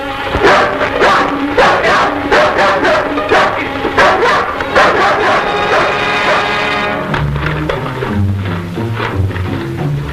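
A dog barks repeatedly up close in loud, uneven bursts, then drops into whimpering and yelping whines toward the end.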